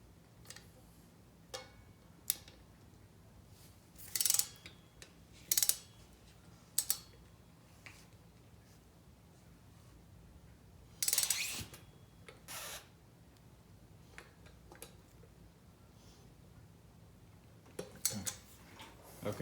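Scattered clicks and ratchet ticks from a wrench tightening the front wheel bolts on a Sportster motorcycle with a mag wheel, in irregular bursts with quiet gaps, close and fairly faint.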